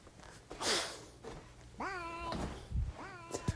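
A house cat meows twice in a small room, two clear rising-falling cries close to the listener, with faint household knocks and bumps between them.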